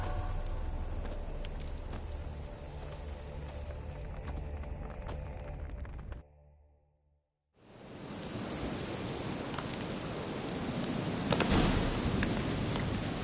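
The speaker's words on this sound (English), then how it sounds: "Looks like rain." Steady hissing rain in The Witcher 3: Hearts of Stone, loud and broadband, starting after a brief near-silent gap that follows a humming ambient stretch with faint hoofbeats.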